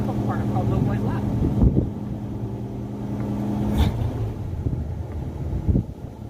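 A 1981 Ford Mustang engine idling cold gives a steady, low rumbling drone with a few soft thumps, heard from close by with some wind buffeting over it.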